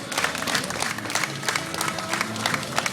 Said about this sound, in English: I want to give a round of applause to those guys.